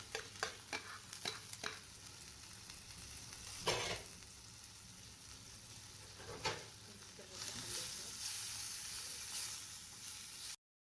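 Small pieces of meat and garlic fry in a pan, giving a steady sizzle with repeated scraping and stirring strokes from a utensil, close up and without talk.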